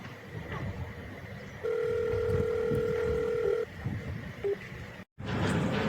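A mobile phone placing a call: a steady two-tone ring-back tone sounds loudly for about two seconds, a short beep follows, and there is a brief dropout before the line connects, all over a noisy room background.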